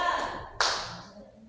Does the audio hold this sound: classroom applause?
yes